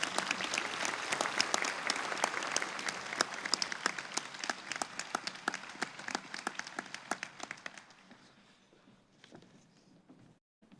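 Audience applause at a sports hall of fame banquet honoring high school athletes of the year, dense steady clapping from a sizable crowd that thins and fades out toward the end.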